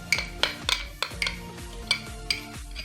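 A spoon stirring cream into a shahi tukray mixture in a pot, with a steady run of sharp metallic scrapes and clinks against the pot's sides, about eight strokes, close and clear with no talking.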